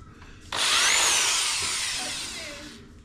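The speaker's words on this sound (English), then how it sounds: "I went crooked on the drill." A power drill starts abruptly and bores into the wood of a sunroom table, a loud high whirring grind that gradually slows and fades over a few seconds.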